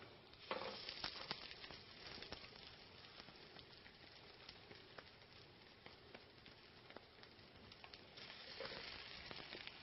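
Crab cakes frying in heated olive oil, a steady close sizzle and crackle with occasional sharper pops, continuous and even throughout with no talking.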